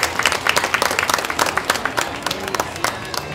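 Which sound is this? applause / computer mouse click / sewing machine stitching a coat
applause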